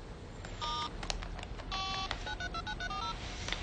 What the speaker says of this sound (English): Want me to phone the police?